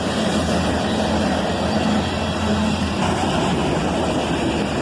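A loaded iron ore train led by a pair of AC-44CW locomotives rolls past, a steady, loud rumble of wheels and engines holding at the same level throughout.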